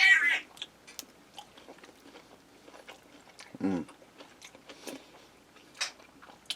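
Crispy fried bacon being chewed up close, with quiet crunchy bites and soft mouth sounds scattered across the stretch and one louder crunch in the middle.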